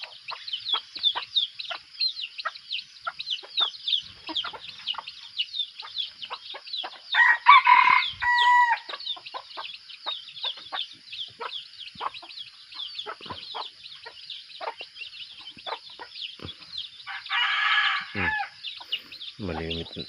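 A rooster at a farm at dawn crows loudly and close twice amid a steady chorus of chirping birds and clucking hens, with faint human sounds now and then.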